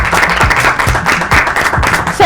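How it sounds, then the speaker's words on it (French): Loud, steady applause from a crowd, dense clapping filling the whole stretch with a few sharper claps standing out. "on va applaudir très très fort"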